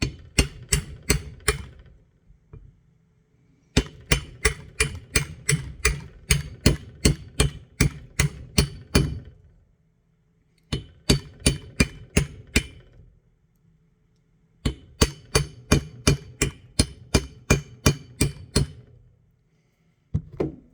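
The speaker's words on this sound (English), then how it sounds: "the socket just drives it in evenly without damaging the edges" A new seal being hammered into a 1982 Toyota FJ40 Land Cruiser manual steering gearbox using a socket as a driver, with quick bursts of sharp, ringing metallic taps separated by brief pauses, repeated in four rapid runs.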